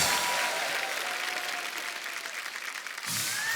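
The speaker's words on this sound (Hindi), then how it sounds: "सबसे स्वीटेस्ट सुपरस्टार के लिए जोरदार ताली हो जाए" A studio audience applauds for a superstar guest on a Hindi comedy talk show, a steady wash of clapping that holds for several seconds before easing off near the end.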